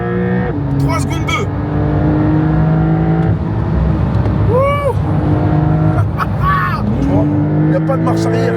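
A Porsche 992 GTS pulls away hard on launch control, its engine rising through the gears with rapid upshifts and repeated climbing revs, heard from inside the car while occupants talk and exclaim over it.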